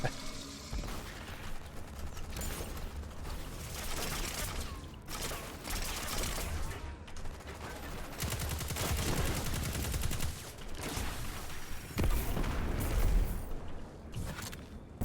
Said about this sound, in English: I like this this new fusion rifle.